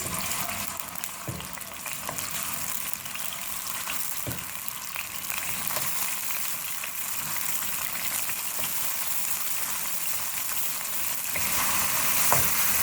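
Ginger garlic paste fries in a pan over a medium flame, giving a steady, fairly loud sizzle with faint stirring scrapes and a slight swell toward the end, with no voices.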